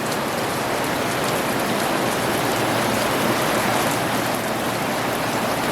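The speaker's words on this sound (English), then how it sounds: "Here we have Laura vlogging the rain." Steady rain falling on a garden with heavy dahlia plants, a dense, even hiss of drops on leaves and surfaces, close and constant, with no voices.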